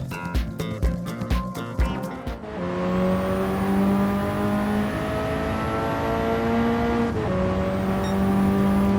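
A tuned race car in Gran Turismo 7, fitted with a limited slip differential and a close-ratio transmission, starts its lap. Rapid engine blips give way to a sustained high revving drone that holds steady, rising slightly through gear changes, loud and close.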